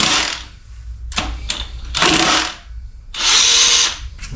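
A power tool spins off 12 mm 12-point rod bolts on a failed Toyota engine in a series of loud, close whirring bursts, four or so separated by short pauses, with no talk.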